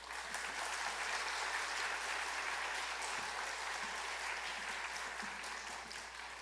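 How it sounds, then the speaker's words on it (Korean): A church congregation claps to welcome a pastor, steady dense applause filling the hall, moderately distant and even throughout without pause. "목사님 나오실 때 우리가 박수로 환영했으면 좋겠습니다"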